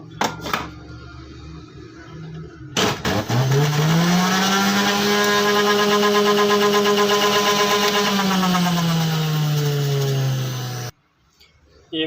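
A homemade 3-in-1 juicer machine runs steadily with a loud motor whine that spins up, holds a constant pitch for about eight seconds, then winds down and stops, with clicks of it being switched on and off.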